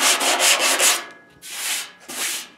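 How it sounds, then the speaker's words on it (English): Sandpaper rubbing by hand across the metal driver side fender of a 1963 Chevy C10, loud close back-and-forth strokes, a quick run of short passes followed by two longer sweeps. "I'll work that sandpaper in like that number right there"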